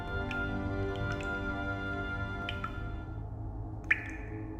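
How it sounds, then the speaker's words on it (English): A few sparse, faint drips of water fall in a crystal cavern, scattered single plinks over a steady, resonant humming background. "Trickling water and the songs of crystals followed Jack Thunder and his crew as they made their way along the narrow bridge to the next chamber"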